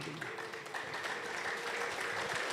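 Church congregation applause with ululation, dense continuous clapping and high trilling voices filling the room, loud and steady throughout.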